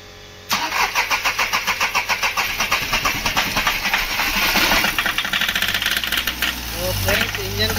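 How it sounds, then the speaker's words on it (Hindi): A Volkswagen Polo engine cranks and catches after a brief quiet moment, then runs with a loud, rapid, rattling idle that roughens toward the end. "इंजन का आप साउंड देख ही रहे हैं"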